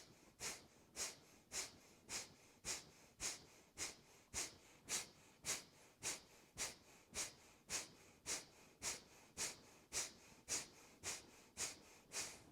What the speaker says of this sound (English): we'll bring on 24 Kapalbhati breaths here